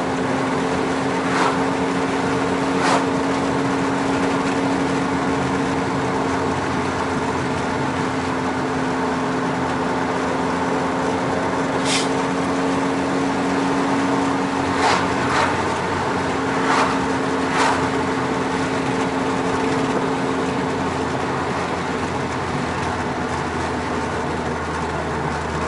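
A Volkswagen MK4 GTI drives along a road on the way up to Ramona, California, with a steady, droning engine and road hum heard from inside the car. Faint clicks and rattles sound now and then.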